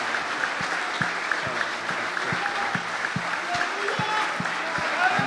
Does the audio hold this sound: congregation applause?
yes